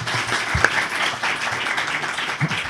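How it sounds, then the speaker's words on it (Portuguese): Audience applause greets a speaker at a legal lecture event, a steady wash of many hands clapping for a few seconds with a sharper clap standing out near the start. "Vamos receber uma salva de palmas,"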